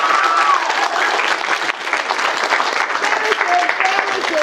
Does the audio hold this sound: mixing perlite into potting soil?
no